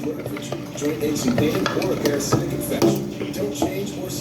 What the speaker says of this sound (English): First I'm going to stir this around.